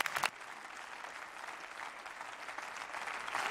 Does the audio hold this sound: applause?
yes